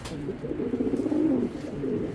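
Belgian-breed racing pigeons, a pair of male and female, give a low, rolling coo close by that swells and fades across a couple of seconds.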